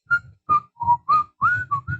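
A clear, close whistled melody of short and held notes, a single tune carried alone without any voices: the Andy Griffith Show theme.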